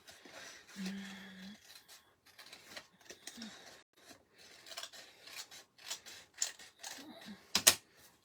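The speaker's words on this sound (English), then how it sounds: "So I'm just going to cut onto the score line, just like this. And then I'm going to cut that middle piece out." Scissors cutting cardstock along a score line for a pumpkin-themed paper craft: a close series of crisp snipping and rasping blade strokes, irregular in rhythm, ending in a sharper closing snip, with a faint brief hum early on.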